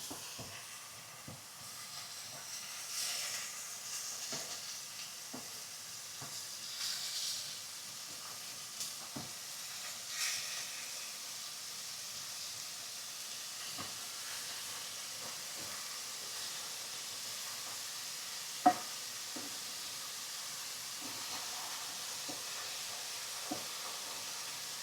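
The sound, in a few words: center cut bacon sizzling in a pan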